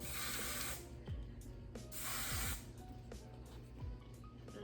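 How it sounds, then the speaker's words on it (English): Hairspray can misting onto a wig, several close hissing spray bursts of uneven length separated by short pauses, with faint handling clicks in between and no speech. "I'm gonna take some of this hairspray, spray her down."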